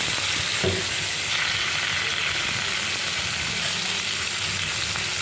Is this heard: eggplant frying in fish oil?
yes